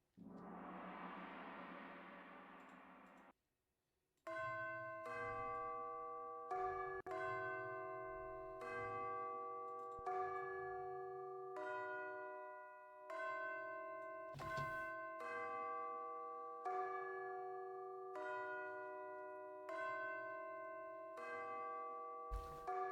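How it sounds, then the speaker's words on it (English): Two bells in a music composition start after a brief sustained tone, then strike in a steady repeating pattern with bright, ringing tones that decay between strikes, all clear and prominent without talk. "Now we're working with the two bells."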